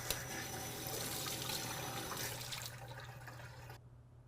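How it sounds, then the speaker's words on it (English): Running water rinses sanitizer off home cider-making equipment, a steady close gush and trickle that fades over about four seconds before cutting off. "Rinse the sanitizer off that."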